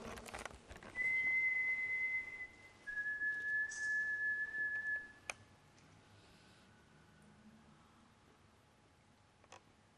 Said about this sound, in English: I'm going to whistle, and I want you to actually copy the whistle.